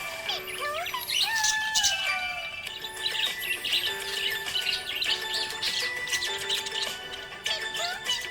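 A budgie chirps happily in a rapid stream of bright tweets and warbling whistles, continuous and close, with short pauses between bursts and no talking.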